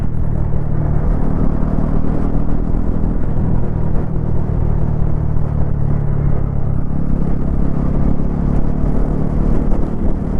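A 2026 Bajaj Pulsar NS400Z motorcycle with a 349cc engine being ridden up through its gears, a steady loud engine rumble with rising and falling pitch as gears change, no talking.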